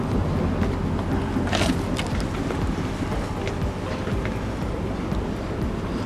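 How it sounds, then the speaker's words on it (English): Strong outdoor wind rushing and buffeting the microphone during roof waterproofing work, a constant loud roar with occasional gusts and faint handling noises, no voices. "Watch the wind doesn't catch you as well."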